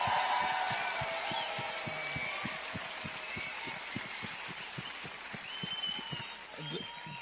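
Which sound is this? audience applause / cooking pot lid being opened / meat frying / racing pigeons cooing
audience applause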